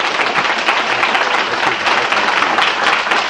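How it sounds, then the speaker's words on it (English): An audience applauds steadily for a speaker at a formal event, a dense, even wash of clapping that lasts the whole time without a break. "Please give us a strong round of applause for Dr."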